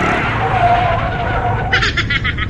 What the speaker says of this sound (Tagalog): may build up na ng traffic ah